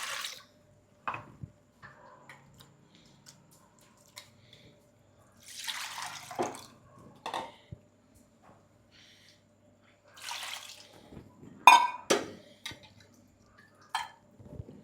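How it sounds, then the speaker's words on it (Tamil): Water splashes and trickles in short, irregular bursts into a Kanyakumari-style fish curry, with quiet gaps between pours and a few clinks of a vessel. "கறிக்கு தேவையான அளவு தண்ணியெல்லாம் ஊற்றிக்கிட வேண்டியதான்"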